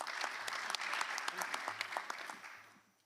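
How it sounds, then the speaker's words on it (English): An audience at a panel on food systems coalitions gives a steady round of applause, fairly soft and even, with a low hum beneath and a gentle fade at the end. "So a round of applause for her as well, please."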